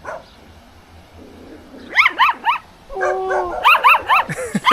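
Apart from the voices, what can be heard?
puppy barking and whimpering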